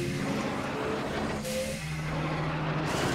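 Podracer engine in the Star Wars Episode I: Racer video game, a loud, steady droning roar with a hissing edge and shifting tones, heard alone.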